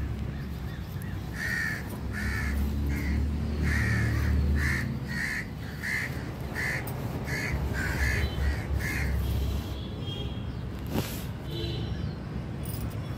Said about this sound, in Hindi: पक्षी भी कितने खुश हैं कि अपनी आवाज़ में काँव काँव काँव काँव करने में लगे हुए हैं